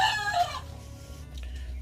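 A rooster crows loudly and close by at an outdoor market in Samoa, one drawn-out call at the start that fades into low background noise.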